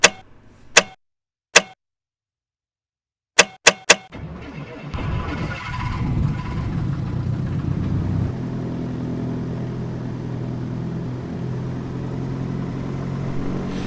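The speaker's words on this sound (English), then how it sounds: "it's time to get this aircraft started up and listen to some engine sounds" Simulated Cessna 152 piston engine in a flight simulator: a few sharp switch clicks separated by silence, then the starter cranks and the engine catches into a steady, loud, low idle drone.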